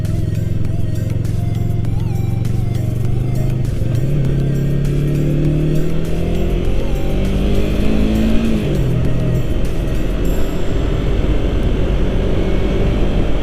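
A 2020 Yamaha YZF-R3 motorcycle rides along a road, its engine a steady close drone that rises and falls in pitch with throttle changes, mixed with continuous wind rush and no talk.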